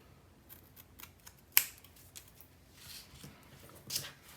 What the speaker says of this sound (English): I'm just going to flip it over and cut away the excess at the side of the hat there